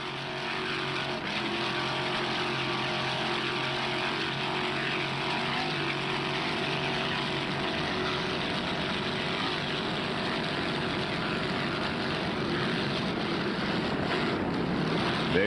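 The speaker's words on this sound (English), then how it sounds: "T custom marine engine powering this 29-foot Warlock." Custom marine engine of a 29-foot Warlock offshore racing powerboat at a 1995 Key West world championship race, a loud, continuous droning roar holding steady for the whole stretch, with wind noise mixed in.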